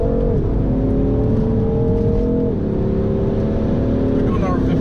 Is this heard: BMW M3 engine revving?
yes